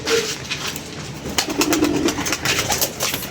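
Pigeons coo softly in a low, throaty burble, several overlapping calls close by with light rustling and background noise.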